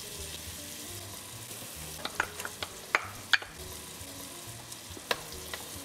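Garlic and ginger sizzle in a pan for a root vegetable tagine, a soft, steady frying hiss broken by light clinks and scrapes of stirring, with no talking.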